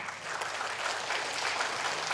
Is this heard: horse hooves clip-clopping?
no